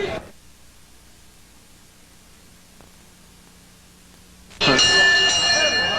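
A ring bell ends the first round of a heavyweight kickboxing world championship bout, ringing out loudly near the end of the clip after a quiet stretch, with crowd noise swelling around it.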